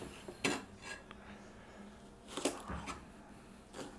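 A knife slicing a cucumber lengthwise for a cucumber salad, giving a few brief, close cutting and tapping clicks against the board with quiet gaps between them.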